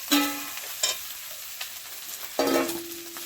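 Fish heads dropped into hot oil for a Bengali muri ghonto, a sharp sizzle bursting out twice, a short crackle in between, with spoon stirring and hissing oil fading under each burst; no voices.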